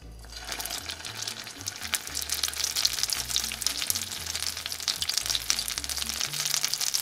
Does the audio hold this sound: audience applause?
no